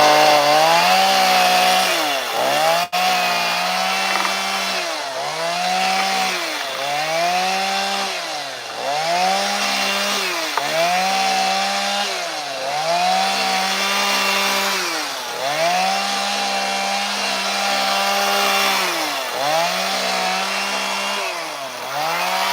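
A small chainsaw shaves wood on a carving, its engine revving and dipping in a steady repeating rhythm of cuts, loud and close, running continuously with no talk.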